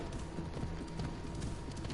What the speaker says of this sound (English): Here, Phoebe, get on my horse